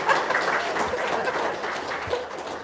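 An audience claps together in a steady, dense burst of applause at a motivational talk, filling the whole moment without pauses.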